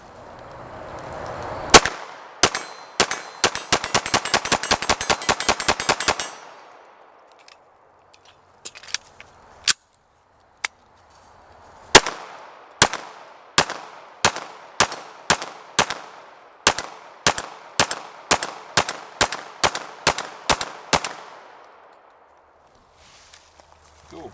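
Rapid pistol fire from a gun held in a FLUX Raider brace, two magazines emptied: a fast burst of sharp cracks, a pause with a few scattered shots, then a long steady string of loud, evenly spaced reports.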